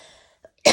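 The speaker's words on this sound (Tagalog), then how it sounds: "Ubo ako ng ubo dahil sa sobrang dry" One short, harsh cough from a dry throat bursts out close and fairly loud at the very end, after a faint breathy sound and near silence.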